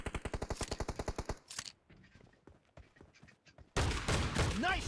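Rapid, evenly spaced gunfire bursts from a video game shotgun ring out close and loud, then fall to scattered quieter shots and clicks before a dense, noisy blast of action sound returns.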